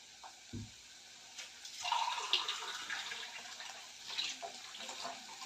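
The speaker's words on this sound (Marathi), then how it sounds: "त्यानंतर ह्याच्यात मी एक ग्लास पाणी घालून कुकरच्या कुकरच्या दोन शिट्ट्या करून घेते" A glass of water poured into a pressure cooker over a mixed pavta bean and potato bhaji, making a steady, close splashing pour that runs for several seconds after a brief knock.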